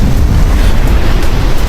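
A wind and rain storm on Kalanggaman Island gusts hard against the microphone, making a constant, loud, rumbling roar with no pauses.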